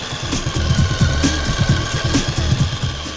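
RGT EX86181 Crusher RC crawler with a new ESC and a non-outrunner motor, running at low speed with a steady, close mid-pitched electric whir that pulses slightly, heard alone without talking.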